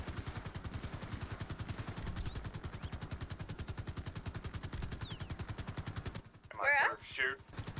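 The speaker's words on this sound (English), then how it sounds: "Yeah, he's shooting officers now." Rapid automatic gunfire from a suspect firing at police officers in a GTA roleplay game, a steady stream of shots running for several seconds, with brief voices breaking in near the end.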